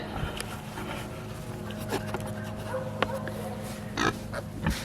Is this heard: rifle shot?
no